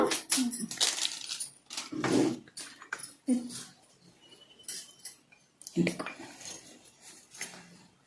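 Powder from a cut packet is tipped into an iron pan for a henna and coffee hair mix, with close clattering, scraping and tapping of metal and packet, uneven and busy, while a voice talks alongside.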